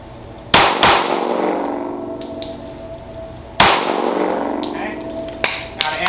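Two sharp, loud gunshots spaced about three seconds apart at an outdoor defensive shooting range, each one a crack with a ringing decay, followed by fainter clinks.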